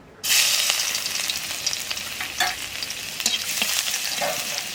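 Garlic dropped into hot oil bursts into a loud, steady sizzle that starts abruptly and keeps crackling close up, with stirring scrapes mixed in and no voices.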